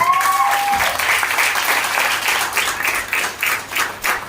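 An audience claps together at a gathering, dense and loud applause for a few seconds, slightly uneven as it goes on, with a brief tonal squeal at the start.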